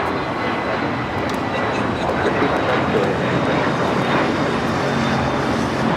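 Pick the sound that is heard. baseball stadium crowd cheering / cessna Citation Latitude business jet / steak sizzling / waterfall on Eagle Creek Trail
cessna Citation Latitude business jet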